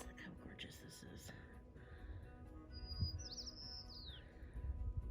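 Birds chirping at the Fort Stevens historical military site on the Oregon coast, faint high tweets and a clearer sweeping call midway, heard under quiet nearby talking.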